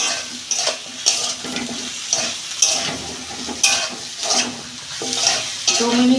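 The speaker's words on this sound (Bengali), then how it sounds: "আমি সবজিগুলো দিয়ে দিচ্ছি।" Vegetables sizzle in a hot pan over fried ginger, cumin, coriander, pepper and green chilli for a Bengali fish curry. A loud, steady frying hiss carries repeated scraping stirs at a regular pace.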